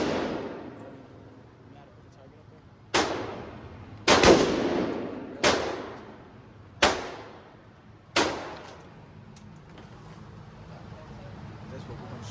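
An AR-15 rifle in 5.56 fires five loud, sharp single shots at an indoor gun range, spaced a second or more apart, each followed by a short ringing decay, with people talking between shots.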